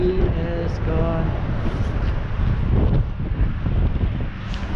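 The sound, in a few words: wind blowing into microphone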